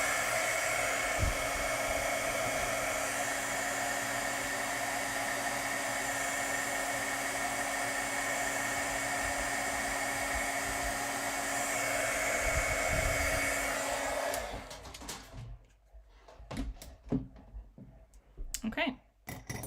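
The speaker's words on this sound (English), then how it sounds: "I will heat emboss that" Heat embossing tool blows hot air over powder on a sparkle-themed handmade card, a steady, loud fan whoosh lasting about fourteen seconds before cutting off, followed by scattered clicks and handling noises.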